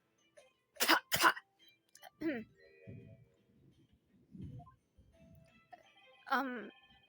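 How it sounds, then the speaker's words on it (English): A couple of sharp, close coughs ring out, followed by softer throat-clearing and low murmured sounds, then another short cough near the end. "You seem to be coughing up some,"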